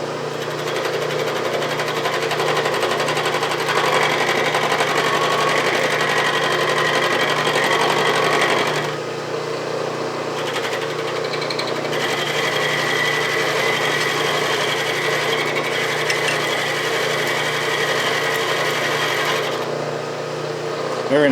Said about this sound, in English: I like to take the first pass by conventional milling and then come back, climb milling to get a better finish